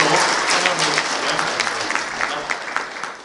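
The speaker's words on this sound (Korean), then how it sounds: "자리에서 일어나시면 여러분 박수로 환영드립니다" Audience applause welcoming a guest at a memorial ceremony, sustained dense clapping from a crowd filling the room, tapering off slightly at the end.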